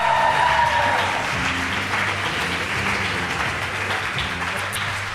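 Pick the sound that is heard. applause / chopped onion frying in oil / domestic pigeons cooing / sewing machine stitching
applause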